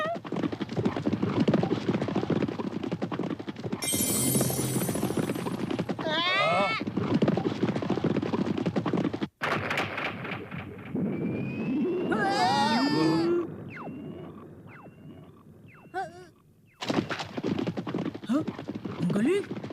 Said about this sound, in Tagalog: Pagklase ang kabayo na yun ah.